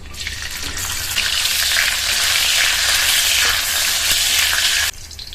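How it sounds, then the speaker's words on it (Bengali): Cashews and raisins frying in hot white oil give a loud, steady sizzle that rises after the first second and cuts off abruptly near the end, with no talk. "এখানে নিয়েছি কাজু বাদাম আর কিশমিশ ধুয়ে নিয়েছি এগুলো এর মধ্যে দিয়ে ভেজে নেব"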